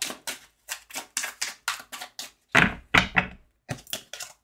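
Tarot cards laid down one by one on a table, a close series of about fifteen crisp slaps and taps in an irregular rhythm, with a brief louder cluster midway and no talking.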